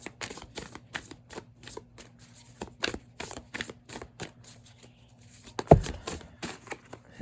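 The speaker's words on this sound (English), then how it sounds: "I feel like I need a different way of shuffling because this just takes too long." Tarot cards are riffled and shuffled in quick, repeated crisp bursts, close by, ending with a louder thump.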